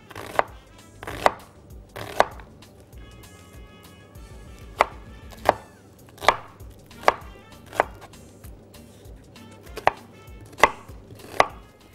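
An onion is chopped with a knife on a board for meat and vegetable soup, a dozen or so crisp, close knocks coming in an uneven rhythm with short pauses between them, and no speech.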